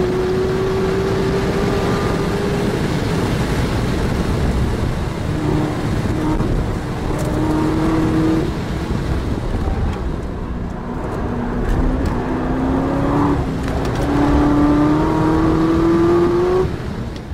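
A stock 2012 Chevrolet Corvette ZR1 on Michelin tires laps the Nurburgring, its loud V8 revving up through the gears with rising pitch, brief shifts and lifts, then pulling hard again, recorded close with no talk.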